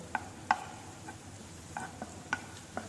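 Onion cooking in butter in a pan for a dried fruit soup; quiet scattered crackles and a few stirring scrapes over a soft, low sizzle.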